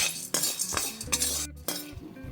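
Roasted gram being dry-roasted in a kadai, with metallic clinks and scraping strokes of a spoon against the pan, close and bright, in a short burst with a brief pause partway through and no speech.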